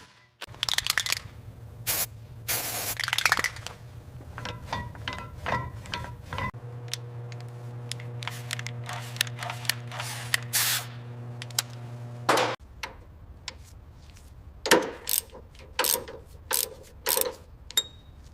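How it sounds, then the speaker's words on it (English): Air ratchet tightening lug nuts on a Rolls-Royce Silver Shadow during restoration, heard up close in several bursts of rapid mechanical ratcheting with steady whirring stretches and sharp metallic clicks and knocks between them. "Finally, use the air ratchet to tighten the lug nut to spec."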